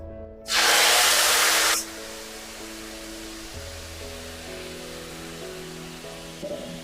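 Prawns hit hot mustard oil for an Odia-style poi prawn curry, giving a loud, sudden hissing sizzle that lasts just over a second. A quieter, steady hiss continues underneath, with no talking.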